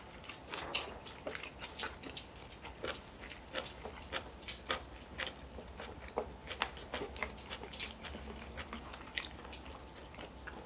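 Close, wet chewing and crunchy biting of suyuk pork, spicy oyster salad and fresh kimchi, with steady bites and mastication sounds continuing throughout, no talking.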